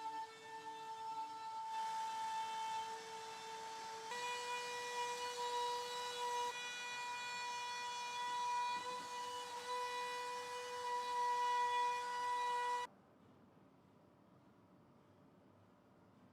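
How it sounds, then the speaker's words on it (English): Makita router cutting a circle out of acrylic and MDF, a loud, steady high-pitched whine with a shifting tone as it cuts, stopping abruptly near the end and leaving quiet background. "now we will go ahead and use our router from Makita and we will be able to cut out the rest of the part and take the circle out of it."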